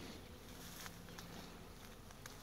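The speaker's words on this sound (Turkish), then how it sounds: "Her tarafta arı var yani" Bees buzz steadily among flowering pomegranate trees in a garden, a dense, continuous hum of many insects nearby with no voices.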